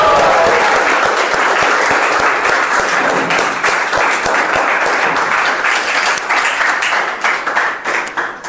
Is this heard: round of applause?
yes